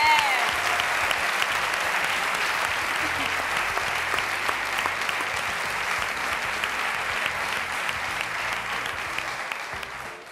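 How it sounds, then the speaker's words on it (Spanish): Sustained applause from a studio audience for a contestant on a cooking-while-singing competition show, dense and even clapping that fills the whole stretch before slowly thinning at the end. "Aplauso para Pili Pampi."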